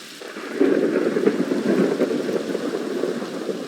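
Low rumbling video game thunder rolls beneath a continuous wash of rain, steady and moderately loud with no voices.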